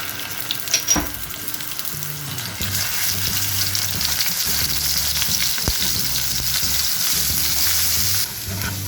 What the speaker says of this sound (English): Now I am going to add the grated onion.